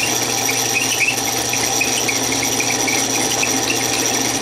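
A drill bores into metal without cutting fluid under light pressure, a steady, continuous grinding whine with a squealing edge that stays loud and even throughout.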